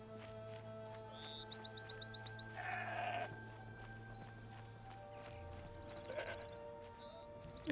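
A goat in Horizon Zero Dawn bleats in a snowy area, a few faint wavering calls over a steady low game ambience with soft hoof-like steps, no talk.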